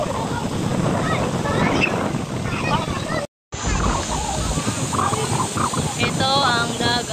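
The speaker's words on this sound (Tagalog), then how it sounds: "Ito ang dagat." Steady wind-blown roar of sea surf fills the scene, interrupted by a short cut, with people talking over it.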